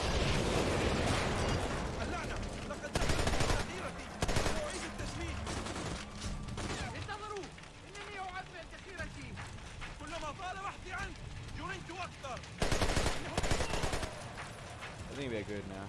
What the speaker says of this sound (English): I'm in the middle of a fucking war! Why the fuck are they throwing grenades?